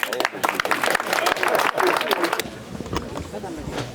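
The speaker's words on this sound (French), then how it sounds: "Et on applaudit." Applause rises from the crowd at a municipal inauguration, lively clapping for a couple of seconds that fades into softer scattered claps and background voices.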